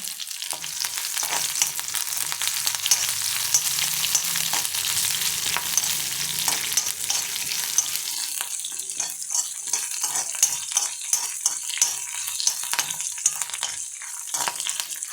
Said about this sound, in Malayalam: അതിലേക്ക് കുറച്ച് കരിയാമ്പിലി ഇടാം കേട്ടോ അത് വഴറ്റിയെടുക്കാം